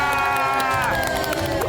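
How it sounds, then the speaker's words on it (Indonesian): Studio audience on a TV cooking show cheers and applauds, a loud continuous crowd roar with shouting voices and music-like tones running throughout. "Kita boleh berikan tepuk tangan buat Ibu Risma."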